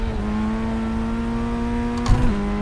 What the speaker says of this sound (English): Oh, sounds like someone's blown their engine.